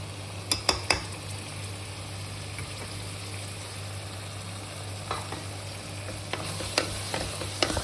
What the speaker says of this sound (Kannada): ನಾನೀಗ ಬಟಾಣಿ ಆ್ಯಡ್ ಮಾಡ್ತಿದ್ದೀನಿ